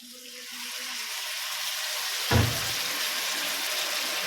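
Water pours into a pan of chili chicken sauce, giving a short soft splash that fades into a faint, steady sizzle, close by with no voices.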